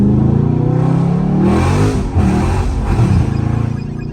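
A Dodge Scat Pack revs hard while doing donuts in the rain, its loud, close engine surging and dipping in repeated throttle bursts with a tire-and-spray hiss, no talking.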